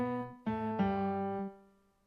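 Short melody phrase on piano: four sustained notes in a syncopated rhythm, the first held, then three quick entries with the last ringing out and decaying, close and solo.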